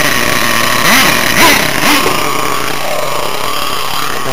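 A small RC model engine at a cricket ground demonstration revs up and down about three times in quick sweeps, then settles into a steady buzzing whine, loud and close.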